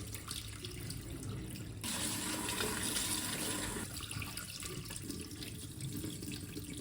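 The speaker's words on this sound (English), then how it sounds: "Now I have to wash with running tap water at least 2-3 times." Tap water runs steadily into a sink while cucumber is rinsed, a close, continuous splashing hiss that swells louder for a couple of seconds midway and then settles back.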